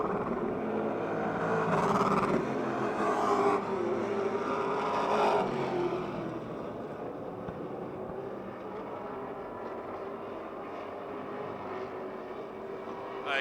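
Race cars roar around the Motordrome Speedway oval, a loud droning surge that swells as the pack passes and then fades slightly into a steady hum.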